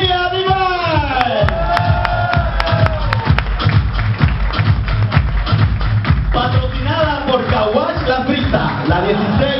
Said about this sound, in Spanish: un fuerte aplauso para Miss Sofía.